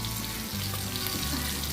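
Prawns fry on a hot tawa with a loud, steady, close sizzle and bubbling hiss that runs without a break, with a few soft knocks from a utensil.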